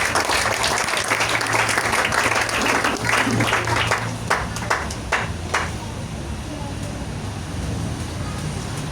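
A church congregation applauds at a one-year anniversary service, a dense wash of clapping for about four seconds with some cheering, then the applause thins into scattered claps and fades, leaving room noise.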